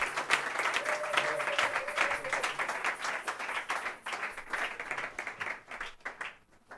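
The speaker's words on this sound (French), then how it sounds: "Acclamons pour le roi des rois." A church congregation claps and cheers in acclamation during a French-language worship service, dense sustained applause filling the room throughout before thinning toward the end.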